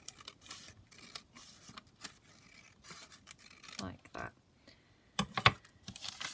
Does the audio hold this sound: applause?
no